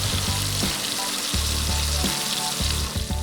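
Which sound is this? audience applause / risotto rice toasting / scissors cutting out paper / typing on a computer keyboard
risotto rice toasting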